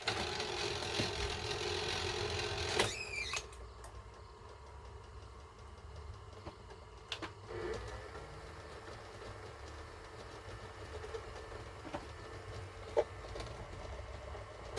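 A Sanyo Betacord VTC-M20 Betamax video cassette recorder plays a tape with a steady mechanical whir and hum, broken by a few clicks and clunks from the transport.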